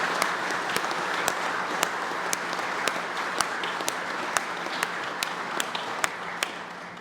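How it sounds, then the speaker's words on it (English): An audience in a historic courtroom applauds steadily for several seconds at a dedication event, a dense wash of clapping with a few sharper, closer claps standing out at regular intervals. "Let's have a round of applause for the members of our judicial community."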